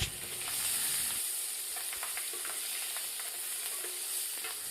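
Green chillies fry in hot oil in a wok alongside bay leaves, an even sizzling hiss with soft scraping stirs and light crackles, close and steady, nobody speaking.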